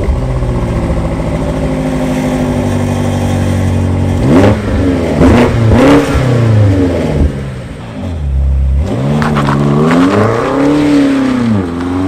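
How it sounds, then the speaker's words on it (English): BMW M8 Competition Gran Coupe (F93) launching hard from a standstill in a 0–100 km/h run, its loud engine idling steadily, then surging through rising revs with clear gear-change breaks, close and alone. "let's see if the BMW M8 Competition Gran Coupe can really accelerate from 0 to 100 km per hour"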